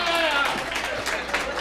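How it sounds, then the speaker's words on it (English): A dinner audience applauds with dense, steady clapping filling the room, mixed with crowd murmur and speech. "Applaud if you're not from Staten Island."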